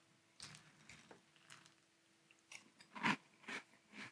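Crunchy bites and chewing of Cap'n Crunch Arctic Crunch cereal in milk, several sharp crunches spaced irregularly, close to the microphone and loudest near the end.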